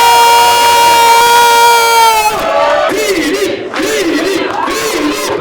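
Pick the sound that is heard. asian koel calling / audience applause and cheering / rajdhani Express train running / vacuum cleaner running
audience applause and cheering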